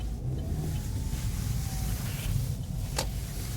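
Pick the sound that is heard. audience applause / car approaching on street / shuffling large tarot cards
car approaching on street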